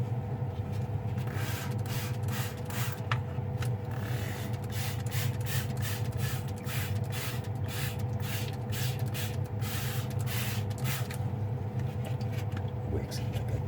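A water spray rinses freshly harvested silver crystals from refining 90% silver, a steady hissing spray with a constant motor hum beneath and rapid pulsing bursts throughout.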